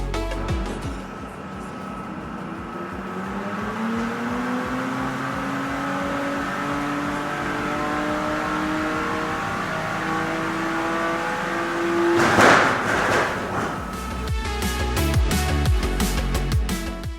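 A built BMW N54 engine with a single turbo, in a car making a dyno pull near 800 wheel horsepower. The exhaust note climbs steadily in pitch for about ten seconds, peaks in a loud roaring burst, then drops back to a lumpy, throbbing idle.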